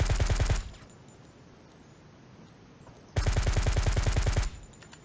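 Zero Sievert video game gunfire at enemies with PS ammo: two loud bursts of rapid automatic shots, each lasting over a second, separated by a quiet stretch of low background rumble.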